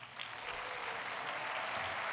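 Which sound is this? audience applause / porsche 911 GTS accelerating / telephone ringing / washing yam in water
audience applause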